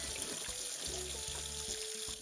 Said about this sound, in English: Place in a dishpan filled with cold water and add 1 cup of vinegar.